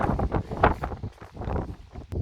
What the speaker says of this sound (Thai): ลมแรงวันนี้